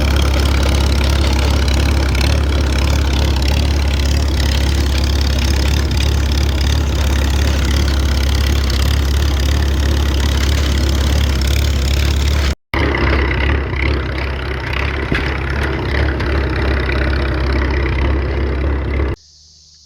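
A 1940 Farmall H tractor engine idles steadily and loudly with a low, rumbling chug, briefly cutting out before settling back into the same even running.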